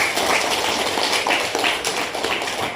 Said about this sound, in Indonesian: Tepuk tangan dulu untuk 3 teman kita.